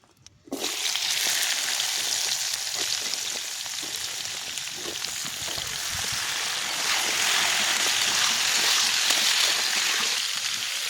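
Potatoes, carrots and vegetable stalks sizzle steadily in hot oil in a pan, a dense continuous frying hiss that starts abruptly and holds close and loud throughout, with faint stirring knocks.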